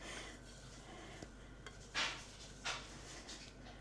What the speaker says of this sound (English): We're going to scrape the rest of this cream out.